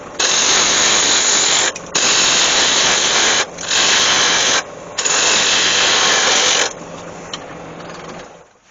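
A wood lathe spins a piece being turned into an elephant's head, giving a loud, steady mechanical whir in several long bursts separated by brief stops before it winds down, with no voices.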